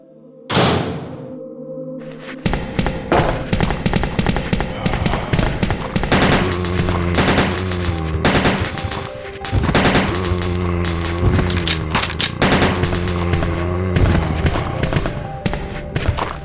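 Leon's shotgun fires repeatedly in Resident Evil 2, loud heavy blasts in quick succession over game music and ambience, with a brief near-silent gap early on before the shooting resumes.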